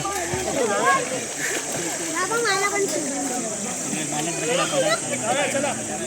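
Water splashing and churning continuously in a Konkan river with children's shouts and voices mixed throughout, lively outdoor swimming noise.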